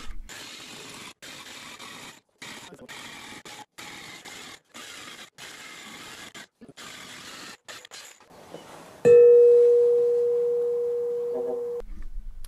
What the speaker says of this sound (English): I take an angle grinder with a tin cut off wheel and I make my first cut with that